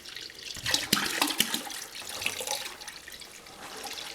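Water poured into a batch of prickly pear mead must, topping it up toward about five gallons: a steady, splashy rush of liquid with a few sharper surges near the start, close by, with no talking.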